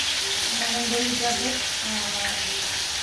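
Vegetables hitting a hot pan in a home kitchen, giving a steady broadband sizzle and frying hiss that runs throughout, with faint tonal background noises and no clear speech.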